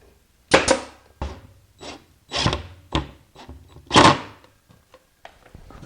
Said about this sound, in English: give it a little bit of a rub, hold it to the front, and then put some 1-inch brads in